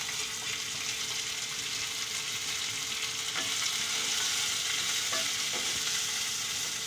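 Moth beans (matki) hit hot oil for misal pav, giving a close, even frying hiss with a few stirring scrapes, steady for several seconds and free of voices.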